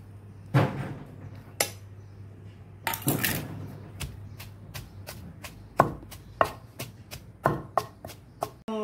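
Onion pounded with ginger, garlic, cumin, coriander and dried coconut in a mortar, a series of sharp, close thuds that fall sparse at first and then come in a quicker, regular beat.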